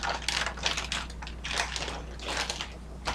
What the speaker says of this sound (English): Sorry for the crinkling. It's still in this bag and everything.